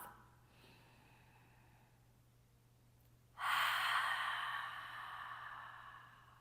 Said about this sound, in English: let's take a deep breath in through the nose and out the mouth.